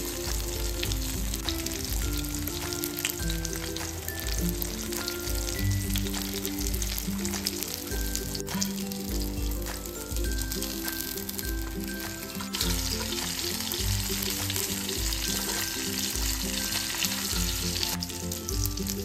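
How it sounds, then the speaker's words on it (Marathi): Rava-coated fish fries in a pan over medium-low flame, a steady, close and loud sizzle with crackling bubbles that runs continuously throughout, with no talking over it. "ते मीडियम लो फ्लेमवरती किंवा लो फ्लेमवरती कायम फ्राय करून घ्यायचे"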